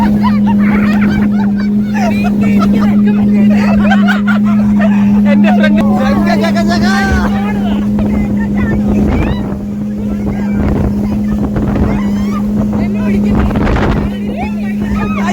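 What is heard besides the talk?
speedboat splashing through sea waves at Calicut beach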